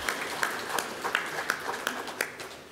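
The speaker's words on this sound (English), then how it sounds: "So give yourselves a round of applause for helping meet the water needs" Scattered, uneven claps from a small audience at a Texas talk on water supply. They come as a light, intermittent patter of separate hand claps rather than a full ovation, fairly quiet throughout.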